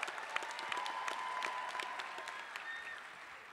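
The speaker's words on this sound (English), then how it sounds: "Early graduates, give a little round of applause." Audience applause at a fall business school commencement ceremony for graduating students, a continuous, moderately distant patter of many hands clapping with no talk.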